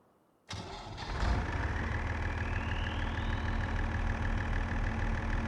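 A Fiat engine on a farm cranks and catches after about half a second, a short burst of starter noise, then settles into a steady rumbling idle.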